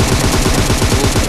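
Rapid automatic gunfire in PUBG, a loud, close, continuous burst of repeated shots without a break.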